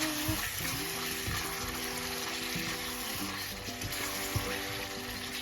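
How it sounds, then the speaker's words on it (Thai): Ingredients being stir-fried in a home-kitchen pan with curry paste, giving a steady hiss with scattered scrapes and stirring clatter close by, with no talking. "แล้วก็ผัดให้มันเข้ากันนะคะ"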